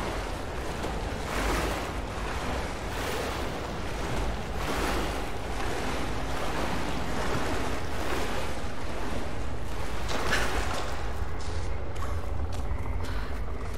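Steady, full splashing and churning water as Lara swims through a pool in Rise of the Tomb Raider, a continuous close wash of sloshing waves with no talk.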